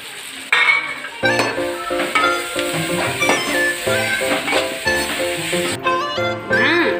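Chopped tomatoes go into a pan of frying onions for a goat boti varuval, and the pan hisses and sizzles under steady stirring and scraping with a metal spoon, loud and close, with a voice talking at points.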